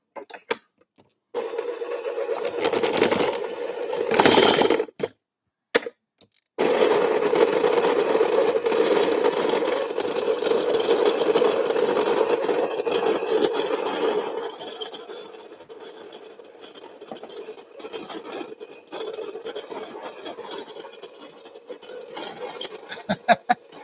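A burr coffee grinder crunches through coffee beans for homemade coffee liqueur, giving a steady mechanical whirring drone with brief stops and bursts, then a quieter, continuing grind toward the end.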